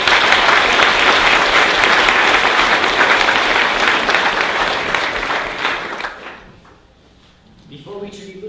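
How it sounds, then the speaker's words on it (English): Loud, dense applause from an audience at a Techstars Mobility tech meetup in Detroit for the presenters, sustained for several seconds and then fading out as a voice begins speaking. "How about a round of applause for our presenters?"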